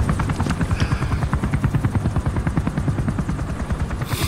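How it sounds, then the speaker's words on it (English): Helicopter in the stealth video game Metal Gear Solid 5: The Phantom Pain, its rotor blades thumping in a loud, fast, steady rhythm close by, with no voices over it. "That little chopper costs money."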